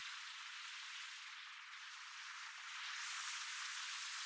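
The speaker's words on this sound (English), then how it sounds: "You get more of a rain sound" A synthesized rain-like hiss made with a vocoder on a noise carrier, a steady bright wash of crackling noise with no low end, swelling slightly louder toward the end, alone with no voices.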